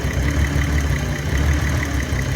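A BMW E32 730i with the M30B30 engine idles with a steady, even rumble and a faint rhythmic pulse, heard close and alone.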